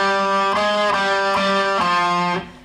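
Distorted electric guitar plays a short, sustained melodic phrase from a guitar solo, a few held notes picked one after another, loud and close before cutting off.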